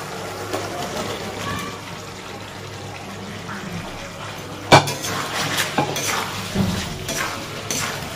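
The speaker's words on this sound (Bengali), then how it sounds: "এবার সবজিগুলো দিয়ে দেবো" Cauliflower and potato pieces are tipped into a spiced pan for a vegetarian curry, giving a sharp clatter and then soft stirring scrapes and a faint sizzle at a moderate distance.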